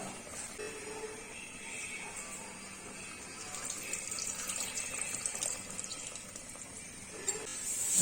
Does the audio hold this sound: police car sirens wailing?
no